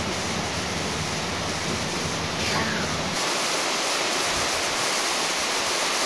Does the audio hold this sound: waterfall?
yes